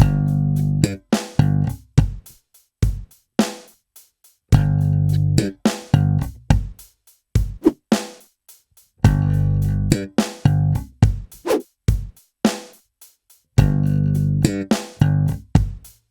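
A slap bass lick played slowly, with separate thumbed and popped notes in a steady, deliberate rhythm, repeating in four similar phrases, close and clear with no talking.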